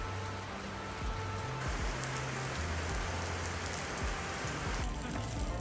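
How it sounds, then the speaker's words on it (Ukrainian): Steady rain patters on a hard surface nearby in Zakopane, a continuous even hiss of drops with no voices. "пройшовся дощик"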